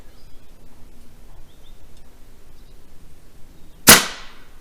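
A single sharp, loud crack from a compressed-air gun launching a Nerf dart at 200 psi, sounding once near the end after quiet outdoor ambience.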